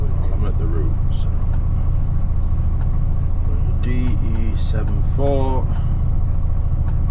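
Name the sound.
HGV truck engine idling while building air pressure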